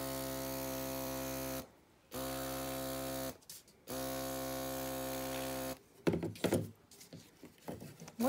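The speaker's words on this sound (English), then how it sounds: "What do you guys think of this airbrush?" An airbrush sprays purple paint around the edges of a Dollar Tree frame. A buzzing motor hum cuts on and off in bursts, followed by a few clattering handling noises.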